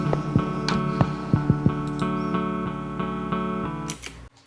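Dry synth chorus section from a cheesy dreampop ballad remake, playing sustained harmonic chords with punchy low percussive hits, clear and unprocessed, alone without talk before a brief cut at the end.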